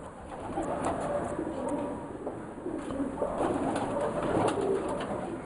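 Pigeons coo softly in Greece, low throaty calls repeating at a moderate distance over a constant hiss of background noise.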